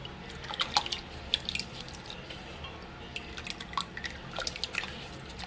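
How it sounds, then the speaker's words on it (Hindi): Idli rava (semolina) being washed by hand in a bowl of water, squished and kneaded in several rinses: soft wet squelches and scattered drips and splashes, close and fairly quiet, with no voices. "इस इडली रवे को ऐसा मसलते हुए 4 से 5-6 पानी से इसको धोना है।"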